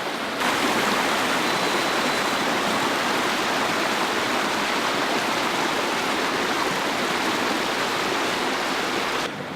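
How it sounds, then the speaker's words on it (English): Flowing white water in a stream in Carding Mill Valley, Shropshire, makes a constant, dense rushing hiss, close and steady throughout with no voices. "the flowing white water down there"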